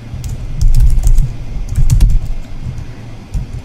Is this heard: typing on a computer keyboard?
yes